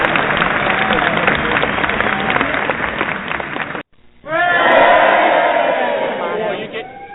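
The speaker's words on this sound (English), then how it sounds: "Your applause is right here." Canned cheering and applause effect, a loud crowd roaring and clapping for several seconds, cutting out briefly before a second burst of whooping cheers and clapping resumes.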